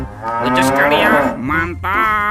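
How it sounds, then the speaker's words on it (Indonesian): A toy cow gives a long, loud electronic moo that fills most of the moment, and a person briefly talks alongside it. "Ini ada sapi teman-teman."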